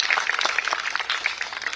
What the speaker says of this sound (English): So I think we deserve a big round of applause for that.